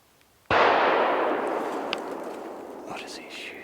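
A single loud rifle shot from a deer hunter firing at a buck cracks suddenly and then rolls away in a long fading echo across open woods, with faint sounds afterward.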